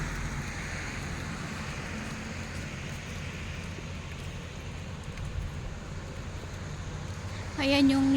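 Rain falls on a cold, roughly 16-degree day in Taiwan as a steady, faint broadband hiss that holds evenly, with a brief tonal sound rising near the end.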